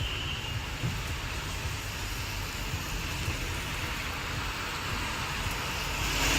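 Light to moderate rain falls steadily with an even, broadband hiss and no pauses, moderately loud and without any voices.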